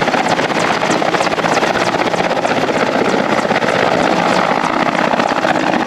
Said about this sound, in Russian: даже вертолеты МЧС, которые тушили лесные пожары